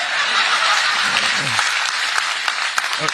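A large crowd at a public speech event claps in steady, dense applause throughout. Faint chuckles and a voice show through underneath.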